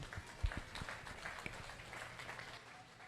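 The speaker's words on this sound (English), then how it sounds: "Let's give these exhibitors a round of applause" A crowd at a 4-H beef cattle show claps for the exhibitors in the ring, giving brief, scattered applause that sounds fairly distant within a big hall, with thumps and low noise underneath.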